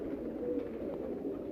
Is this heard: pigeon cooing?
yes